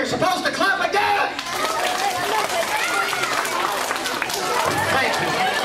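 Children in an audience at a summer camp magic show, giving a burst of loud, busy clapping mixed with chatter and excited voices, close and crowded.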